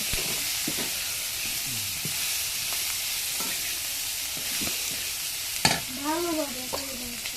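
Dried fish (lotka shutki) frying in a pan over a wood-fired stove, with steady loud sizzling and repeated scraping stirs and a few sharper utensil knocks near the end.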